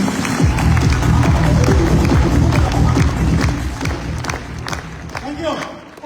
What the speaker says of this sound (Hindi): तो इसके लिए चाहे तो आप अपने लिए तालियां बजा सकते हैं